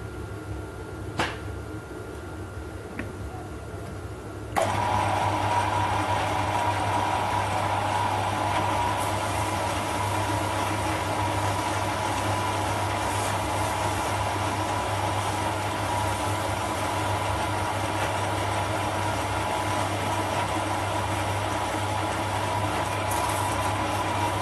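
An Eachine ET8 horizontal four-stroke model engine starts up suddenly after a few faint clicks, then runs at a steady, even hum close by without talk.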